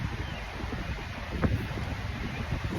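Outdoor wind buffets the microphone in a steady, low rumbling roar, with a brief gust or bump midway and no voices.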